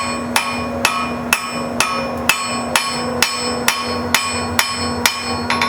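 A blacksmith strikes hot metal on an anvil while working a spring fuller, a dozen loud ringing hammer blows in a steady, even rhythm, close by with a bright metallic ring after each hit.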